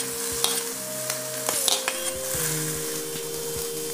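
Chopped tomatoes go into a hot pan for a veg frankie, sizzling steadily while a spatula stirs and scrapes against the metal, with a faint tonal hum in the background.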